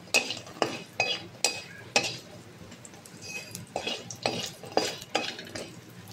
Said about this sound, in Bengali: বড়ি ভেজে নেব।